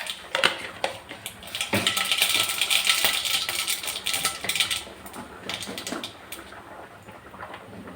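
Mustard seeds crackle and pop in hot coconut oil in a home kitchen, a dense run of sharp spattering clicks that builds, holds for several seconds, then thins out into scattered pops.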